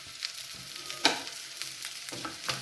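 Curry leaves hit hot tempering oil for plantain stem mor kootu, crackling in a close, steady sizzle with a few sharper spits and light utensil scrapes, no speech.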